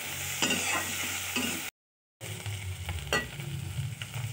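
Ghugni, a Bengali pea curry, stirred as it fries in a kadai, with continuous sizzling and repeated scraping strokes of the spoon, briefly cut to silence midway before the sizzle and stirring resume.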